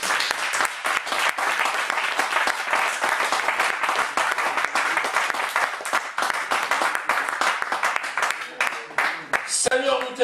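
A church congregation claps and cheers in praise of the Lord, sustained loud applause with a steady rapid rhythm throughout, voices mixed into the crowd noise.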